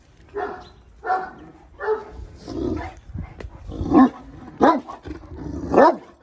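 A dog barks in a series of roughly six spaced, loud calls, each a short harsh burst with a gap of about a second between them, close by in an open outdoor square with no talking over it.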